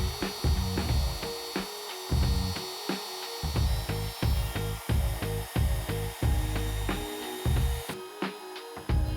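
A wood router with a small straight bit cuts an inlay pocket in a series of short, loud, rhythmic bursts of cutting noise with brief gaps between passes, close up.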